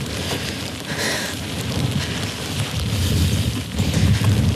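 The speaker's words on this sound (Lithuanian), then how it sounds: "Takiukas labai ilgas, lietus labai žiaurus" Heavy rain pours steadily on a hiking trail in Iceland, a dense continuous hiss with wind gusts, loud and close throughout without speech.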